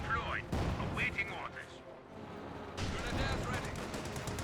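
Battle sounds from the video game Company of Heroes 2 as a Cromwell tank fires amid rattling gunfire and sharp blasts, with a commentator talking over the action.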